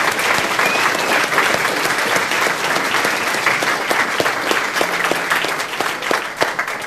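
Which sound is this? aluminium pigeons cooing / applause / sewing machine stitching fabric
applause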